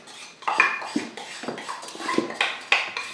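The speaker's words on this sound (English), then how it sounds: "So first of all, we're going to add the sugar. Scrape it out with a spoon if you need to." A spoon scrapes sugar into a bowl for a citrus pudding, giving a string of clinking, scratchy strokes of metal against the bowl at close range, with no voices.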